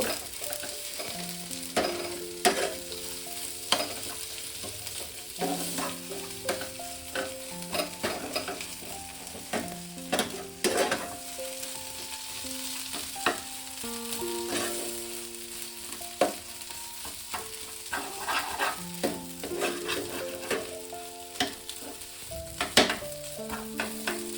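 A metal spatula stirs and scrapes tomato chop filling frying in a pan, with sugar just added; close, steady sizzling under repeated rhythmic clicks and scrapes of the utensil against the pan, no talking.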